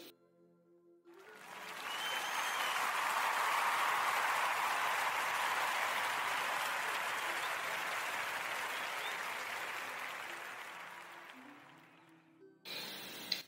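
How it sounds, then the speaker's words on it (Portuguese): Applause from an audience on a radio podcast fades in, swells into a full, steady round of many hands clapping, then slowly tapers off and ends abruptly. "quero pedir a todos uma salva de palmas,"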